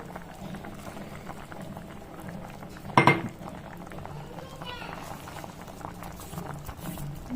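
Sambar boiling in a pot with a soft, steady bubbling and low cooking rumble, broken by a sharp metallic clink of a utensil on the pot partway through, with no speech.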